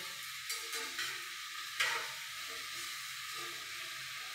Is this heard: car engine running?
no